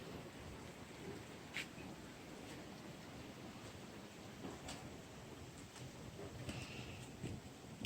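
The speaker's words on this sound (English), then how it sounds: "Even in the pouring rain, this place is like paradise." Pouring rain falls on a lake as a steady, soft hiss, with faint scattered clicks and distant rumbles beneath it.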